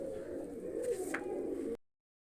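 Large female pigeons coo briefly at their coop, a low, soft, rolling murmur lasting under two seconds before cutting to silence.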